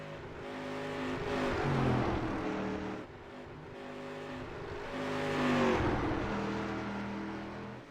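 A race car on a qualifying run at the Phoenix oval, its engine roaring as it passes twice, swelling loud and then fading with a falling pitch, the second pass mirroring the first.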